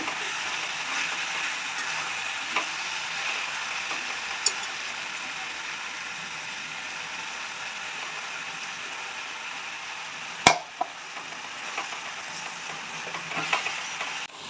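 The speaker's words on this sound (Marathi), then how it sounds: "भाजी मी छान प्रकारे मिक्स करून घेतलेली आहे" Methi bhaji with egg is stirred in a pan, a soft continuous sizzle with light scraping, and a single sharp knock near the end.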